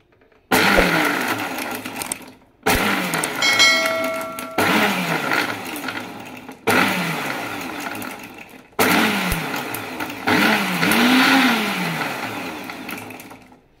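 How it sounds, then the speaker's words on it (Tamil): A mixer grinder blends homemade mayonnaise with salt in loud, whirring bursts, switched on and off about five times with brief pauses between runs. "இதை வந்து மூடி போட்டுட்டு இன்னும் நம்ம பிளெண்ட் பண்ணிக்கலாம்."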